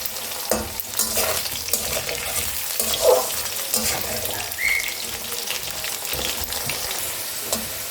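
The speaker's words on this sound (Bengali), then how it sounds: "আলুগুলো আমি ভালো করে ভাজবো।" Potatoes frying in hot oil in a home kitchen while making Bengali muri ghonto, a steady close sizzle with occasional stirring scrapes throughout, no talking.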